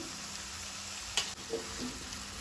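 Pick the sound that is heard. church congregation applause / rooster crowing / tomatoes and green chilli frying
tomatoes and green chilli frying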